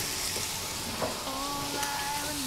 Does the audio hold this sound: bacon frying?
yes